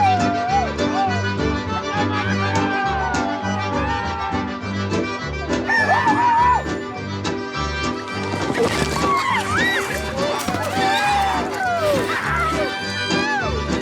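Chickens are released at a rural festival amid a loud, dense mix of music, crowd noise and voices, with rooster crows and clucking rising through the busy din.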